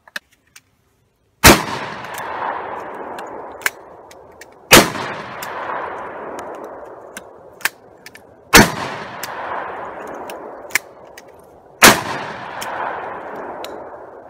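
Four loud, close blasts from a Harrington Richardson blunderbuss, spaced about three seconds apart, each followed by a long rolling decay, with a few sharp clicks between shots.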